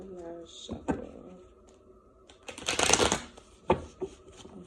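Tarot-style cards being shuffled, with short riffling bursts and taps at irregular intervals and a longer flurry in the middle, close and fairly quiet beside brief soft voice sounds.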